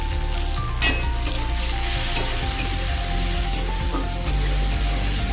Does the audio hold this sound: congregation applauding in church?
no